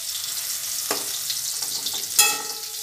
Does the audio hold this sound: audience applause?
no